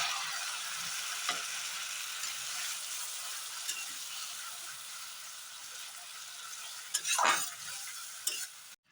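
A poppy seed paste ground with garlic and chillies fries in a pan, sizzling and hissing steadily while it is stirred, with a louder scrape of a spoon near the end.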